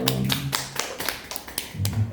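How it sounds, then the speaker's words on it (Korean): Warm applause breaks out from a small church congregation after a worship song, a steady patter of many hands clapping close by with a few sharper individual claps throughout. "오늘 두 분의 뜨거운 박수 보내드리죠."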